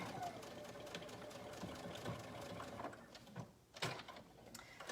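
A sewing machine stitches through a double-layered bag in uneven bursts, close and steady, with mechanical clatter and a brief pause near the end.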